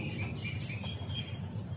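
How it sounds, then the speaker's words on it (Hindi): Crickets trill steadily in an outdoor monsoon setting near Delhi, a dense continuous insect chorus at moderate level with no voices. "झींगुरों की टीं टीं"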